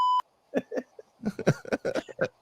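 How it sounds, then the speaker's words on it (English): A short, pure electronic censor beep cuts in at the very start, followed by people talking. "We're gonna beep that out because we don't want people to hear that."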